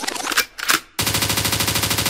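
Gunshot effect in a song: two sharp bursts of fire, then a fast steady machine-gun rattle that runs to the end, loud and close, with no singing over it.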